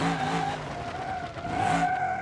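A Crusher Moonhawk car in BeamNG.drive does a burnout on a drag strip, its tires squealing loudly and continuously over engine noise, with the shriek swelling toward the end.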